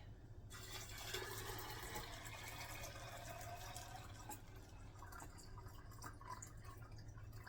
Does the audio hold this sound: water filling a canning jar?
yes